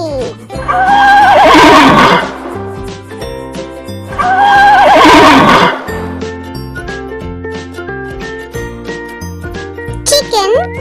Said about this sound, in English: neigh.